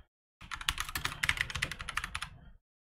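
Commands for SQL Server 2017 Express are typed on a computer keyboard in a rapid close burst of clicking keystrokes lasting about two seconds, with silence before and after.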